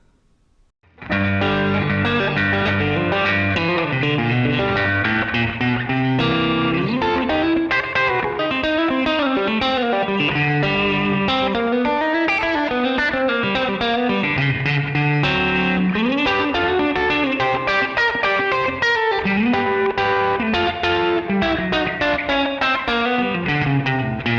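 A bright electric guitar with Seymour Duncan Hot Chicken pickups in a Strat plays a lively country-style run with slapback echo and compression, loud and continuous for the whole stretch.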